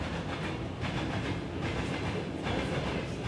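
Train passing close to a house that shakes with it, a steady dense rumble and rattle of rolling wagons, loud and continuous throughout.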